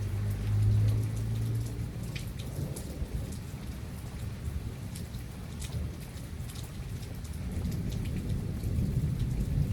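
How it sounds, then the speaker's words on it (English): Heavy rain with thunder outdoors in the dark: a dense, constant hiss of rain on surfaces with deep thunder rumbling underneath, strongest at the start and swelling again near the end. "Sure do love the rain though."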